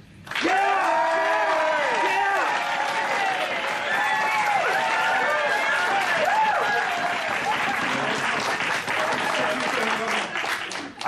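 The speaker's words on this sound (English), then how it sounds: "Big round of applause." Loud sustained applause from a crowd at a developers' hackathon final, with scattered cheers and whoops, continuous clapping filling the space for several seconds.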